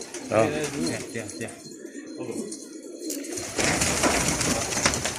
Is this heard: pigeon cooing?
yes